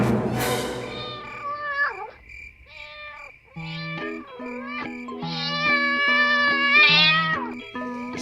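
A cat meows repeatedly in an animated Thomas the Tank Engine story, with a series of close, wavering mews at varying pitches over steady musical tones.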